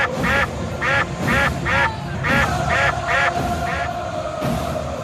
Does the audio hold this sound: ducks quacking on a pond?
yes